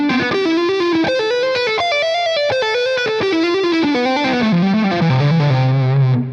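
Distorted electric guitar plays a fast six-note legato pattern, smooth hammered and pulled notes descending steadily, loud and continuous with no talking.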